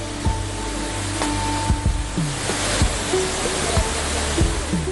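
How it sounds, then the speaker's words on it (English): Siripatalla, a hidden waterfall in a forest, heard as a continuous broad rush of falling water with low thumps and clicks scattered through it, no voices. "many have not witnessed the awe-inspiring beauty of Siripatalla, a spectacular hidden waterfall"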